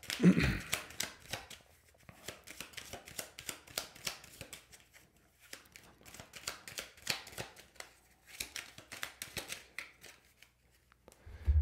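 A deck of cards is shuffled up close for a card reading, in repeated rhythmic bursts of riffling and slapping separated by short pauses.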